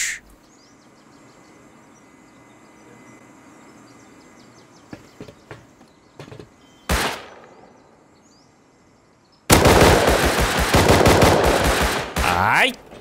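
Gunfire in the survival video game Rust: after a quiet stretch come a few scattered sharp shots, then a loud close shot, and later a sustained rapid burst of automatic fire.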